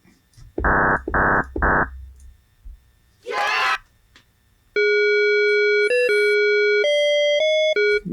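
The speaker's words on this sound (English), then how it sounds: "Yeah, it's a nice bell sound." FM synthesizer bell patch playing sustained, bright metallic tones with shifting pitches, following three short buzzy synth bursts and a breathy noise sweep; clear and fairly loud, no talking.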